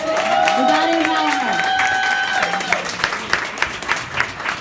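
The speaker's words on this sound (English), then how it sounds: "Let's give her a round of applause, y'all." Audience applause at a speaking event in Kansas City, Missouri: a crowd claps under a speaker's voice for the first few seconds, then the clapping continues alone, thinning into scattered, distinct claps toward the end.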